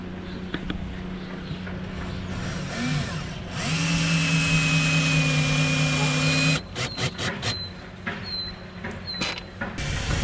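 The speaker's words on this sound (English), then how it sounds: "Screws going in." A power driver whirs in a few sustained bursts as screws go into a catamaran transom extension, with people talking nearby and tool handling clatter around it.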